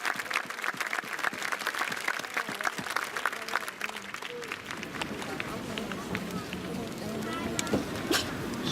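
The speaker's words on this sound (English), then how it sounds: "Ask to join me in giving them a round of applause." Audience at a high school graduation applauding educators, a dense steady patter of clapping from a large crowd, with crowd murmur and chatter underneath.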